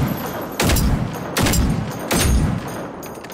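Gunfire in the robot-hunting shooter game Generation Zero: three sharp, loud shots or short bursts spaced roughly evenly, each followed by a brief decaying rumble, with no talk.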